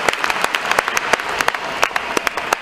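A church congregation claps together during a worship service, a brisk run of sharp overlapping claps that stays close and steady.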